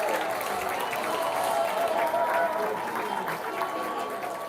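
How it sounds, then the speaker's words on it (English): A college football crowd at the end of a Baldwin Wallace Yellow Jackets versus Wittenberg Tigers game makes a sustained roar with scattered clapping, heard under continuous commentator speech. "as the crowd makes a whole lot of noise"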